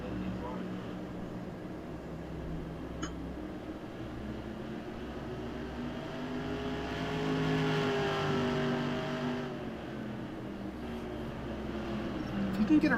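Race car engine droning at speed during a stock car race at Irwindale, a steady loud roar with rising and falling pitch as the car passes, lasting throughout.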